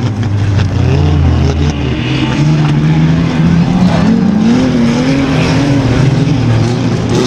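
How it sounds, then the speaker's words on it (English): Several rear wheel drive dirt rods roar off together at the start of a race final at Stansted Raceway, engines droning and revving loudly and continuously, layered and close. "Your rear wheel drive dirt rod final is on, and away they go."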